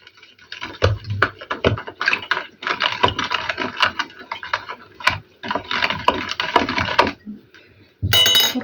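A spoon clinks and scrapes rapidly against a container in irregular bursts while stirring liquid with rock salt, with a short pause, then a louder clatter at the very end.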